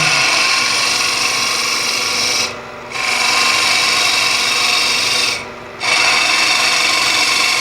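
A tulip-shaped wood vessel on a lathe is hollowed with a captured boring bar, a loud continuous rasping cut that drops away twice for brief pauses before resuming.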